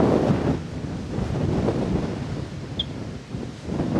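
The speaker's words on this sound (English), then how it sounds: "It's windy out." Wind blowing outdoors on a roadside near Manjanggul Lava Tube on Jeju Island, South Korea, a loud continuous rumbling gust buffeting the microphone, with no voices.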